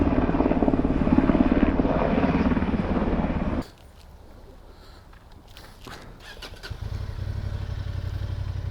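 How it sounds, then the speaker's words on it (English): A loud, steady rotor-engine drone fills the first few seconds, cuts out abruptly, then returns at a similar level after a quieter stretch. "The helicopter is just cool."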